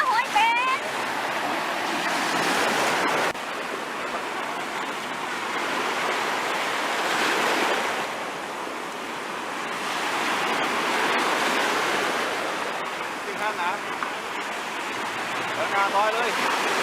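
Sea waves wash onto the beach at Cha-am on the Gulf of Thailand, a broad surging roar that swells and recedes steadily, with a voice speaking over it at times.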